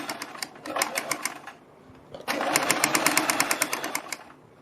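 A sewing machine stitches a fabric strip in fast, even rattling bursts, stopping briefly in the middle and then running on again, close and clear.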